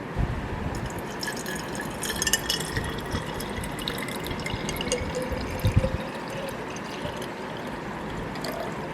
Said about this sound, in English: Now time to add water.